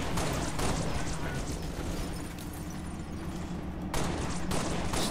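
Pistol gunfire in the shooter game Halo: Reach, with a dense, continuous barrage of shots and blasts running the whole time at steady loudness.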